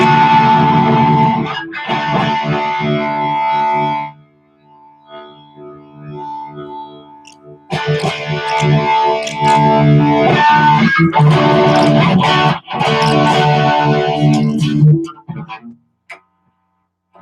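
Electric guitar with P90 pickups played through high-gain distortion and effects, loud sustained chords and riffs in bursts with a brief quieter gap in the middle, no talking.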